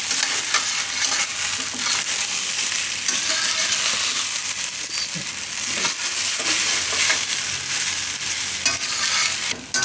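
Onion muthiya mixture for Gujarati kanda muthiya is stirred and fried in a pan, giving a steady, close sizzle with scraping stirs throughout and no talking.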